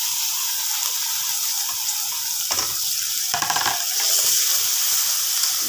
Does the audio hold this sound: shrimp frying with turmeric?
yes